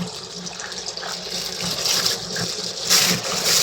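Water gushes from a tap onto chicken meat in a bowl as the meat is set to soak for biryani. A continuous, splashing pour runs close by and grows slightly fuller toward the end.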